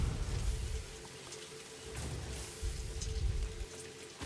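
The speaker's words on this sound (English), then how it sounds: "Oh, the rain on the visor." Rain pattering on a helmet visor in the video game Satisfactory, a dense steady patter of drops with low rumbling underneath, no voices.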